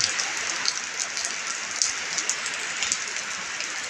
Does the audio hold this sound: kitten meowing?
no